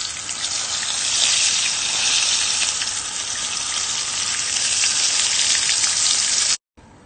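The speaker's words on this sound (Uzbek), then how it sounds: "Qizib turgan yog'imizni qizil ko'rchka bo'lguncha qovurib olamiz" Kotlet patties frying in hot oil give off a steady, dense crackling sizzle that holds at an even level throughout, then cuts off abruptly near the end.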